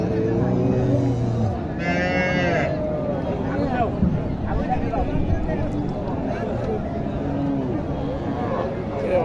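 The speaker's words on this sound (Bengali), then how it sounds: "আর গাভীটা হচ্ছে দেশি গাভী।" A local cow moos at a busy cattle market in Naogaon, Bangladesh, one clear low call rising above the crowd while people talk nearby throughout.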